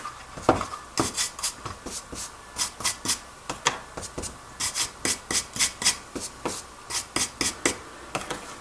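A stiff brush scrubs back and forth over a sand-and-spackle texture on MDF, making quick rhythmic rasping strokes in short bursts, close and fairly quiet.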